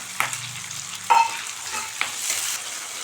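Onion and chopped tomato sautéing in a pan for a fenugreek kulambu, with a soft sizzle broken by a few sharp spatula scrapes and stirs up close.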